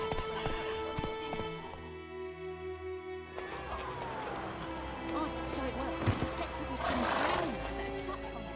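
A horse gallops in The Witcher 3 video game, its rhythmic clip-clop hoofbeats running steadily over a layer of game music and ambience.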